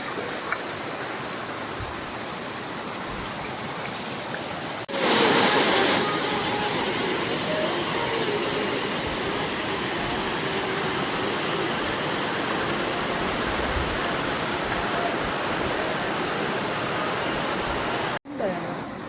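A roaring river and waterfall beside a Himalayan mountain trail on the Shrikhand Mahadev Kailash Yatra, a loud, dense, unbroken rush of water that fills the whole stretch, with a brief cutoff near the end.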